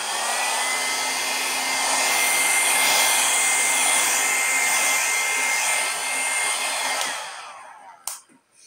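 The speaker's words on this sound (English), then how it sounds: "I always use my little go-to flower travel blow dryer by Drew Barrymore" A small Drew Barrymore flower travel blow dryer on its low setting blows across wet acrylic paint, a steady close whooshing hum that runs for about seven seconds before switching off with a brief clack.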